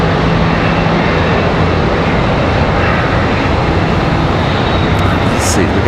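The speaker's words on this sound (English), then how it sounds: "Southwest starting engines right here." A Southwest airliner at Charlotte Douglas airport spools up its engines, a loud, steady broadband roar with a low hum, heard close and continuous.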